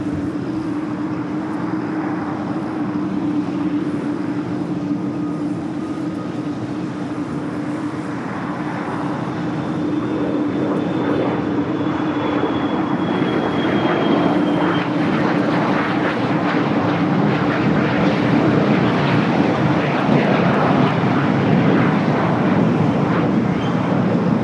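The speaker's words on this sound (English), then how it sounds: "Should be the next takeoff, flight 803, heading to Honolulu" A 13-year-old Hawaiian Airlines Airbus A330-200 takes off from LAX, its jet engines a steady, loud roar that builds and thickens over the span, with no voices present.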